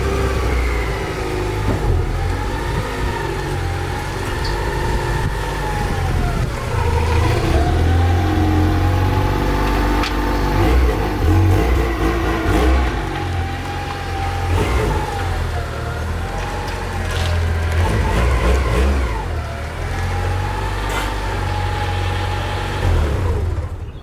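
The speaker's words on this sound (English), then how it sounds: "Let me take out the car." A 1995 Honda Accord engine revs and idles as the car is driven, a steady mid-pitched drone swelling and falling through several throttle changes, close and prominent with no talk.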